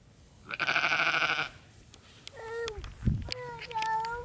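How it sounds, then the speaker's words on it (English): Goats on an Oklahoma ranch in November give a loud, drawn-out bleat up close, followed by shorter wavering calls and a low thump, with ranch background noise between them. "Say hi, goats."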